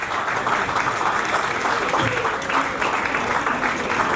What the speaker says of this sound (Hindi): ज़रा एक बार ज़ोरदार तालियां बजाइए